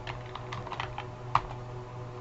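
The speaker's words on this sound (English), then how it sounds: "and I start typing in teach" Keys clatter on a computer keyboard in a quick, uneven run of soft taps with one sharper keystroke midway, close and fairly quiet over a low steady hum.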